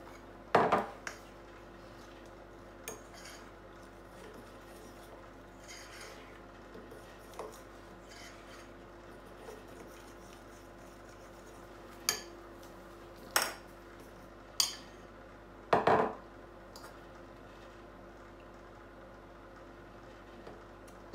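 Scattered clinks and clatters of dishes and cutlery being set into a dishwasher rack, a handful of sharp knocks spread over a quiet stretch.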